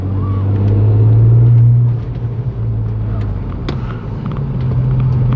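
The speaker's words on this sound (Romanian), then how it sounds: "Mașina se aude excepțional, mai ales în momentul în care intră turbo." An Audi RS4 with a turbo runs with a deep, steady engine drone that swells loudly at first, then eases into a lower rumble with faint turbo whistles on top.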